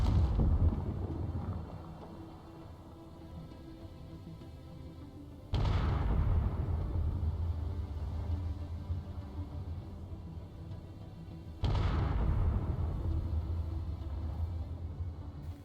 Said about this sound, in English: let you guys see what an actual sustained bombardment is, fired shot after shot after shot